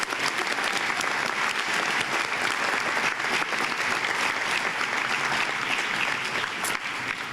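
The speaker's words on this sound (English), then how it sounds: "Please give a huge round of applause to this group of inductees." A packed audience at a high school National Honor Society induction ceremony gives a sustained round of applause for the new inductees, a loud, even roar of clapping from start to finish with no break.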